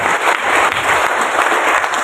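Applause from a church congregation fills the whole moment, steady, dense clapping at full volume with no talk over it.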